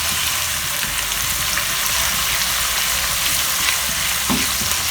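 Ginger and garlic frying in a pan for a dhaba style chana daal, a constant loud sizzle with occasional stirring scrapes and no talk.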